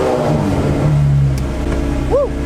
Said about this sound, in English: Let's get the car warmed up a little bit and then we'll start recording it.